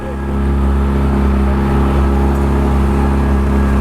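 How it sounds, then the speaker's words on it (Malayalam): A glass-bottom boat's engine drones loud and steady near Kalpitiya island, a constant low rumble with a strong hum that barely changes throughout. "നമ്മൾ ഗ്ലാസ് ബോട്ടിലാണ് പോകുന്നത്"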